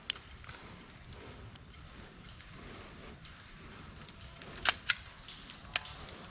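An airsoft gun fires with an empty magazine that is leaking, giving a few sharp clicks and pops, mostly near the end, against quiet outdoor background noise.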